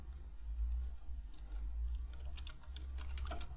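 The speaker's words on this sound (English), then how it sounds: "It's easy, just type in JFrame." Keystrokes on a computer keyboard while writing Java code, a quiet run of light clicks that grows denser toward the end over a steady low hum, with no voices.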